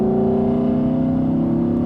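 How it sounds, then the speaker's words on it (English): A Porsche GT3 RS engine pulls under load in high gear with a steady, loud, droning growl that holds an even pitch throughout, with no talking. "this car has an amazing sounding engine, so have a listen to this"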